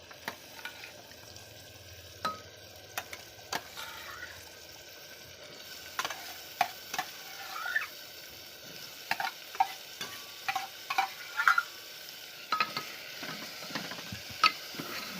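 Bottle gourd pieces fry in spiced oil in a pan for a Gujarati gravy dish: a low, soft sizzle broken by intermittent clicks and scrapes of a stirring spoon, quiet and without voices.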